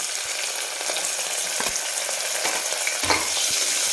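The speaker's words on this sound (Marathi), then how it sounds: "तेल छान गरम झालं की याच्यामध्ये हा कांदा टाकून घेऊ आपण." Onion frying in hot oil inside a pressure cooker gives a steady, close sizzle with a few sharper crackles and stirring clinks, continuous and fairly loud with no voices.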